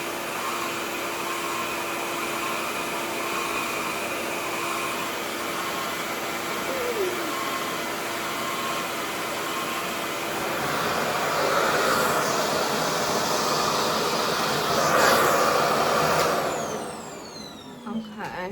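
Revair hair dryer running continuously for the whole stretch, a steady, loud whooshing roar that swells slightly toward the end before cutting down.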